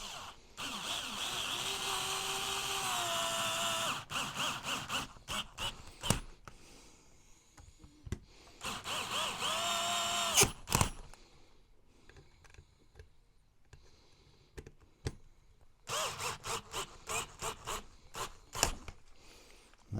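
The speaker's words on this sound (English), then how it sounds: "Might just use the battery drill on that just to help send that home." A battery drill drives a part home on an HPI Baja 5B SBK, a 1/5 scale gas RC car, during diff casing assembly. Close whirring bursts with a steady whine and rubbing grind come in the first few seconds and again near the middle, separated by handling clicks.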